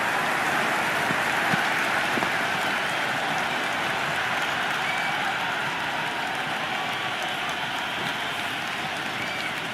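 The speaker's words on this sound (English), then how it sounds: "There's a buzz, a real buzz coming from the stands." Crowd buzz from the stands in the Cricket 26 video game during an India versus Australia match: a dense, steady roar of the crowd that stays at an even level throughout, with no voices standing out.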